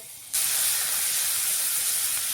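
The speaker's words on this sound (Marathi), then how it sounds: "तेल तापलं की आपल्याला टाकून घ्यायचं आहे एक चमचा जिरं अर्धा चमचा हिंग अर्धा चमचा हळद आणि आपण करून घेतलेलं वाटण" Cumin, asafoetida, turmeric and ground paste hit hot oil for alu vadi, setting off a sudden loud hiss that starts abruptly after a short quiet moment and then holds steady, close and continuous.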